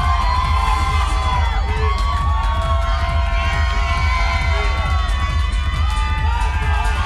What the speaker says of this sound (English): Crowd is going nuts.